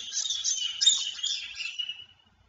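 Bright, rapid chirping from a pet parrot runs steadily for about two seconds, close and moderately loud, then cuts off into silence.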